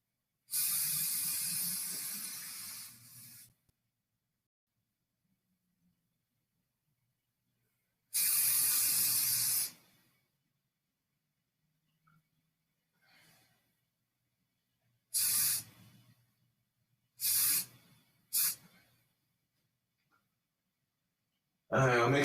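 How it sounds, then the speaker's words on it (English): Aerosol spray paint hissing onto a handle in several bursts: two long sprays, then a few short puffs with quiet gaps between, close and fairly loud. "Do another coating of paint on the handle."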